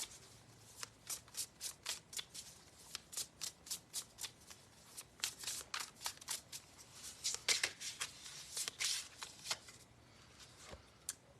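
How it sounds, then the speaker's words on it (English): Tarot cards shuffled by hand in quick repeated riffles and flicks, crisp and close, a steady rhythmic patter that runs nearly the whole time and pauses briefly near the end, with no talking. "Let's get a card for Debbie."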